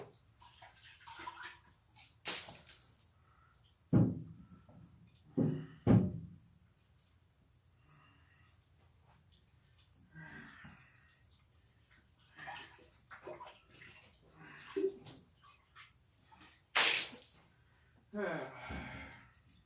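Cold water runs and splashes in bursts while a well water filter housing is opened and cleaned, with loud close gushes broken by pauses, and someone talks between them.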